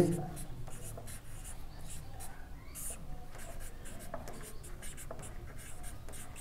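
A pen scratches across paper in quick, faint strokes while a maths problem is worked out, with soft low-level room noise underneath.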